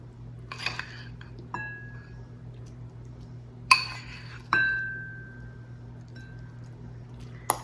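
Food piled into a glass serving bowl, heard as a few scattered clinks and one or two ringing glass taps against a quiet background hum.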